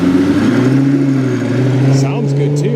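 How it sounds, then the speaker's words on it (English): A loud Lamborghini Gallardo Superleggera engine droning close by, its pitch holding steady then rising and bending as it passes, with a sharp rasping edge. "Sounds good too, that is a Super Leggera."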